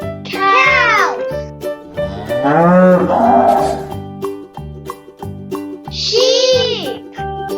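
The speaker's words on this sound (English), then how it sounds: "Cows." Loud, drawn-out cow moos repeat three times across a rhythmic musical backing in a children's learning song about farm animals, each low call swelling and falling close up.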